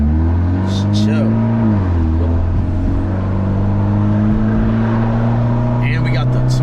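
A Mitsubishi Evo X accelerates inside a tunnel, its engine note climbing and droning loudly with a shift partway through, while someone talks over the steady roar.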